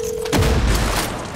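Explosion destroying anti-aircraft cannons in the Far Cry 6 video game, a single loud booming blast that hits suddenly and rumbles out over about a second.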